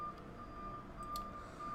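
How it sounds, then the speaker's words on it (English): A garbage truck reverses outside, its faint, distant beeps repeating steadily at a single pitch over low background rumble. "You can hear the garbage truck outside,"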